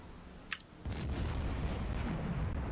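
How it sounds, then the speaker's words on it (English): A torpedo strikes a ship in a World War II submarine game: a faint click, then a sudden deep, rumbling explosion that rolls on and sustains without fading. "Torpedo impact."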